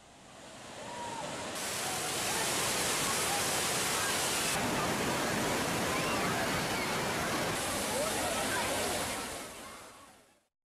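Water pours steadily over a check-dam waterfall, a dense, continuous rushing roar that swells in, holds for several seconds, then fades out.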